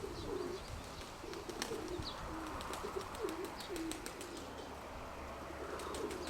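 Pigeons coo in low, repeated murmuring phrases at a moderate distance, with occasional faint chirps and light rustling of wings in the background.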